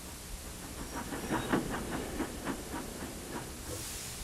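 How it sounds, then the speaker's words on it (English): A cartoon steam engine chuffs in with a run of about eight evenly spaced, hissing puffs over a soft, continuous steam wash, fading at the end; no voices. "just as Thomas chuffed in"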